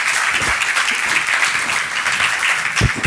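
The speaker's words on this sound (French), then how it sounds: "vous pouvez l'applaudir." A stage audience at a masterclass claps continuously, a dense wash of hands held at a steady, fairly loud level with a couple of sharper claps near the end.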